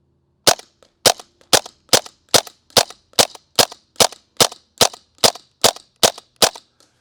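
An airsoft gun shooting at a target about 25 feet away, fired as an evenly spaced string of about fourteen sharp, snappy shots roughly half a second apart, each with a brief tail, alone and close.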